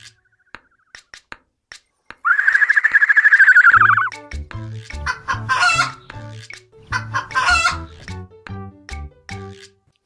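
A chicken clucks in a quick, loud burst set within a rhythmic children's song about farm animals, with music beats and plucked notes before and after.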